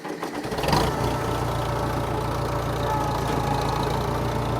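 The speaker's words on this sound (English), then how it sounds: "let's fire this old girl up." An old Case 430 tractor engine cranks briefly, catches, and settles into a steady, loud, close-up idle with an even chugging rhythm and no voices.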